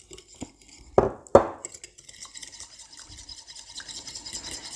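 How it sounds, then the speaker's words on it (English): Yeast, sugar and lukewarm milk whisked in a bowl: two sharp clinks against the bowl, then a quiet, rapid scratchy stirring that fades in toward the end. "So I've whisked that up."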